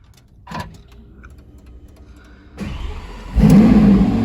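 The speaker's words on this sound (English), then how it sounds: "we're gonna start the Aventador SVJ" A 2021 Lamborghini Aventador SVJ V12 starting up: a few quiet clicks and a whir, then the starter cranking, then a sudden loud bark as the engine fires and settles into a deep, close idle.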